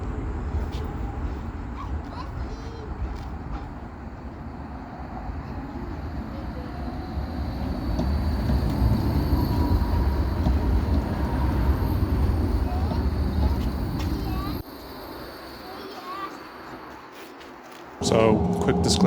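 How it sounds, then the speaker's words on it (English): Škoda 52T tram in Prague, a steady low rumble that builds and then cuts off abruptly, with a brief drop before the noise resumes and voices heard through it. "let's actually make our way to the platform so we can board this tram"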